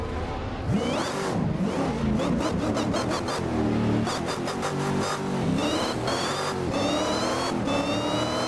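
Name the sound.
car engine revving in video game Assetto Corsa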